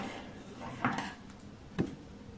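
Scissors snip through bracelet threads, two short crisp cuts about a second apart, close and quiet against a soft background.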